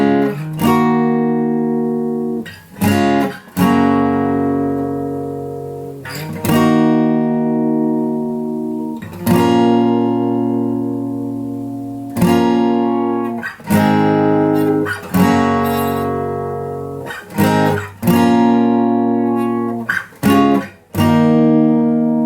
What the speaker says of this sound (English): the pre-chorus section altogether sounds like this.